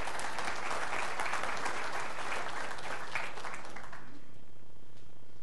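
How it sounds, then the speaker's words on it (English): Applause from a city council meeting audience fills the room, steady clapping from many hands that fades out after about four seconds, leaving quiet room tone. "Thank you for applauding."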